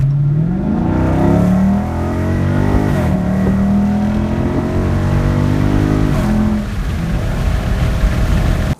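Deep, steady engine rumble from a 2016 Dodge Charger Scat Pack with its muffler deleted, loud and close, rising and falling in pitch with brief revs across the stretch, no talking over it.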